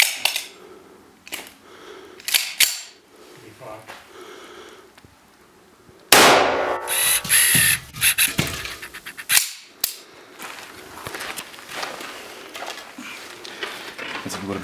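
.45-caliber 230-grain full metal jacket rounds strike a curved Level 3+++ armor plate in sharp, loud cracks, several spaced impacts with a heavier blast near the middle, separated by quieter stretches of handling noise.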